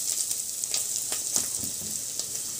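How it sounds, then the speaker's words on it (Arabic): Chopped onion frying in a pan for a mixed vegetable dish, a steady close sizzle with faint crackles and a few soft stirring scrapes, no voices. "حبايبي بنحمر البصلة عشان نعمل طبق تولي"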